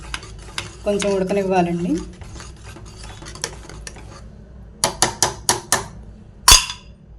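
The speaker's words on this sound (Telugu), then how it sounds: "కలుపుకున్న తర్వాత కొంచెం ఇలా తిప్పుకొని ఒక 2 మినిట్స్" Potato curry freshly mixed with its tempering is stirred in a pan, with scraping spoon sounds and a brief spoken remark, then a quick run of sharp metallic knocks and one loud clank.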